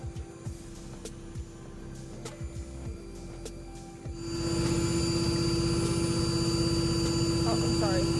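A bee vacuum hums steadily with a low motor drone, then roars louder and fuller about halfway through as suction picks up, with faint buzzing and clicks around it; no one talks.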